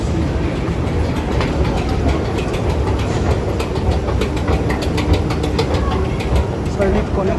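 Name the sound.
metro train arriving at station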